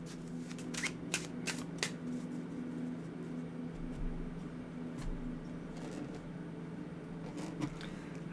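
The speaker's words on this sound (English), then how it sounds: "I'm going to focus on the shuffling" A deck of tarot cards is shuffled by hand close to the microphone, giving soft riffling and flicking bursts in an uneven rhythm over a quiet steady hum.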